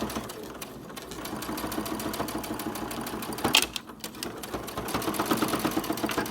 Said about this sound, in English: put our presser foot down, start sewing